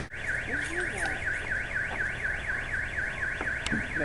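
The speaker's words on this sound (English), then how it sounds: "There's a car alarm." A car alarm wails nearby with a rapidly repeating up-and-down siren sweep, steady and unbroken, heard outdoors at night with faint background noise and no talk.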